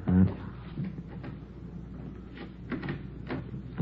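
A back door opening in an old-time radio detective drama, heard as a few close knocks and creaky rattles of the latch and hinge spread across the moment.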